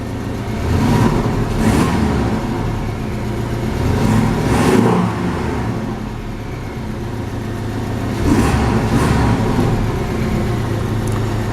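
A 2017 Porsche 718 Cayman revs with its sports exhaust switched on, giving a loud, steady engine drone that swells in repeated surges, with no talking over it.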